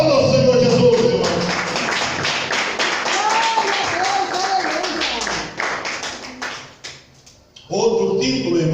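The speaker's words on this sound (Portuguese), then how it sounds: "Aplauda o Senhor Jesus," A church congregation claps in a burst of applause that builds and then fades out, with a preacher's voice speaking over and after the clapping.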